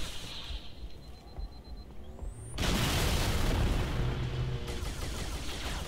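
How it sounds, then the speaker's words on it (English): Grenade detonation in Halo: Reach on The Pillar of Autumn, a sudden loud boom that cuts in after quieter game ambience and sustains as a rumbling roar that slowly fades. "I'm just gonna throw a grenade."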